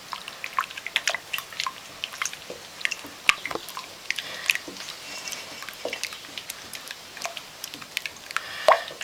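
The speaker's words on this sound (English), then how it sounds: "I'm just going to add a tiny bit more water." A small splash of water is worked into wet, fermenting bread dough by hand, giving soft close-up drips, squelches and sticky squishing at an irregular pace, with no talking.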